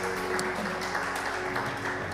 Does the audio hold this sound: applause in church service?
yes